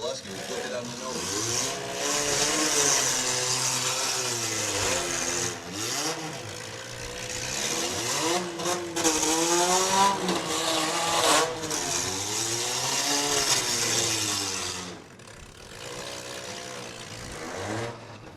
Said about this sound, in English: That 420 LPM sounds really good still in that Camry